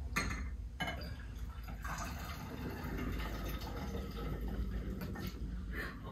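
Hydrogen peroxide solution and yeast are poured together for elephant toothpaste, giving a steady, moderately close liquid pouring and fizzing sound with a few faint clinks and no talk.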